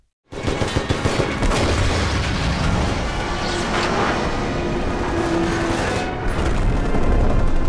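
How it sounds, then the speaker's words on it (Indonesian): A sustained, heavy rumble of blasts and crackling bursts, loud and continuous, like a vehicle exploding amid gunfire, with no voices. "berhasil membuat mobil John meledak"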